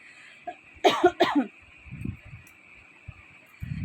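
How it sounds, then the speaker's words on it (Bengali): A few short, dry coughs in a quick cluster, close by, followed by quieter throat sounds and soft background noise. "খুকখুকে কাশিটা শুরু হয়ে যাবে"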